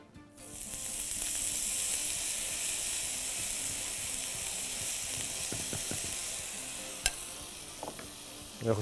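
Grated potatoes seasoned with salt fry in hot oil for hash browns, a bright steady sizzle that swells after they drop into the pan, then thins out with a few clinks and scrapes of a utensil near the end.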